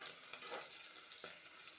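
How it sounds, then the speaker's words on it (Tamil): Tomato frying with onion and green chilli in a pan, a continuous bright sizzle with a few stirring scrapes, close and alone. "ஒரு தக்காளி சேர்த்து நல்லா வதக்கி விட்டுறலாம்"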